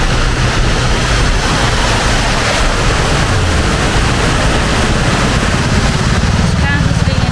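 Loud, steady rushing of water falling over a drop in an underground river beneath a street in São Paulo, roaring continuously with a low rumble beneath, close by and filling the whole clip, with no talking.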